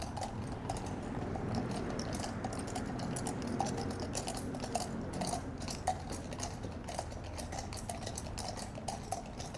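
Horses pulling a carriage near Wellington Arch and Buckingham Palace Gardens, with hooves clopping in a steady irregular patter over a continuous street rumble, moderately close and with no voices.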